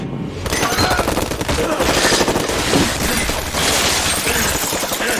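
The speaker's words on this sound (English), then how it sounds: "His hitmen unleash a barrage of bullets." Hitmen unleash a dense, continuous barrage of automatic gunfire in a film shootout, loud and relentless with overlapping bursts and no pauses.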